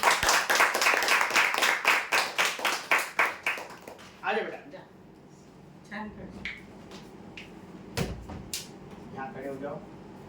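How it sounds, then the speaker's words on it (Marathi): A group claps loudly at a lottery draw event, a burst of sharp rhythmic claps at the start that fades into scattered claps, with people talking and background clatter afterward. "एकदा जोरदार टाळ्या होत्या त्याच्यासाठी"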